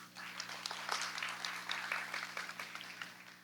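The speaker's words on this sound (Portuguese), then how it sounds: "Aplausos." Audience applause at a theatre performance, a spread of scattered hand claps from a crowd, moderately faint over a low steady hum, swelling slightly then tapering.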